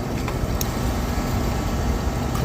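An air conditioning unit's compressor and condenser fan run steadily and fairly loud, a continuous even mechanical hum and whoosh with no talking.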